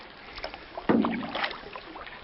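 A canoe paddle dips and pulls through the water in a few close strokes, with a soft splash and swirling wash over faint wind, no voice over it.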